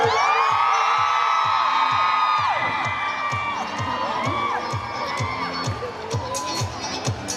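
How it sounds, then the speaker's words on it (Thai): A crowd screams, cheers and claps to welcome a guest at a Thailand-Japan Friendship Honorary Award 2024 event. Dense, high-pitched shrieking holds steady and loud, with rhythmic thumps running beneath the whole time. "ขอเสียงกรี๊ดดังๆและตบมือต้อนรับค่ะ"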